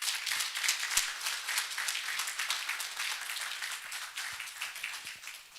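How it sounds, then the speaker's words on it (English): An audience claps steadily at a global health leadership fellowship graduation, a dense, even wash of hands from a large crowd with no voices over it. "Let's keep clapping for Dr. Landry, please."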